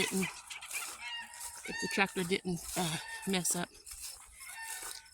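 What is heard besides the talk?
rooster crowing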